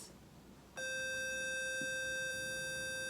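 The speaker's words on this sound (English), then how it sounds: "C sounds like this." A sustained reference pitch C for oboe practice starts abruptly under a second in and holds perfectly steady and loud to the end, a pure electronic-sounding tone with many even overtones and no talking.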